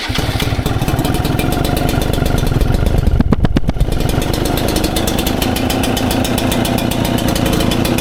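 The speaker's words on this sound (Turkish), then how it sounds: "Şu motoru bir çalıştır bakalım bir de seninkinin sesini duyalım." A Hero XP motorcycle engine running at close range, a loud, steady rapid thumping idle that holds throughout with a brief rise in revs near the middle, no voices.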